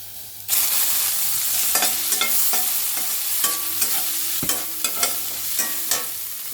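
Chopped garlic and chicken frying in ghee, a sudden sizzle that starts and holds as a steady close hiss, with repeated spatula scrapes and clinks against the pan, no talk.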